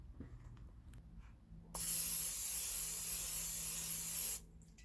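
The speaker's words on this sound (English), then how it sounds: "I'm going to be spraying them with just some cheap Pam." A steady spray of cheap cooking spray onto ice cube trays hisses for a couple of seconds, loud and close, preceded by faint handling noises.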